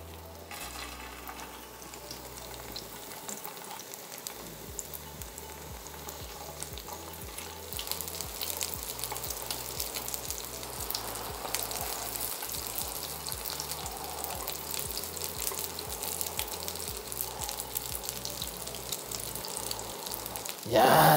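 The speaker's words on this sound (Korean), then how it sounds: "야, 맛있게 부쳐지고 있습니다." Tofu and crab stick pancakes dipped in egg wash pan-fry in cooking oil with a steady, continuous sizzle that grows louder partway through, alongside low rhythmic pulsing hum; no one speaks.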